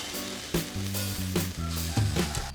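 Pork ribs for Thai grilled ribs sizzle steadily and loudly on a grill, a constant frying hiss broken by a few sharper crackles and pops.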